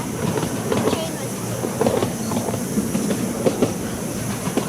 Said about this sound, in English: Oh yeah, there's another train.